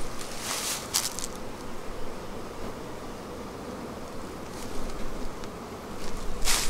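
Honey bees buzz steadily around a hive as a new super of freshly waxed frames is added, a continuous close insect drone with brief rustling bursts near the start and end.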